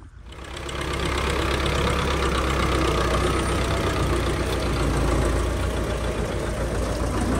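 A Belarus 510 tractor engine runs steadily and loud at close range, a continuous low diesel chug with a rough knocking texture that holds without a break.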